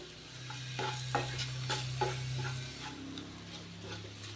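Chili powder frying and being stirred in a pan with a little salt, giving a steady soft sizzle broken by repeated scraping strokes of the spoon, close and moderately loud, with no talk.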